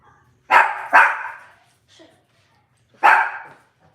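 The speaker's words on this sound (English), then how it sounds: "Man, what are you barking for?" A dog barks sharply three times, close and loud: two quick barks in a row, a pause with a faint whimper, then one more bark over quiet surroundings.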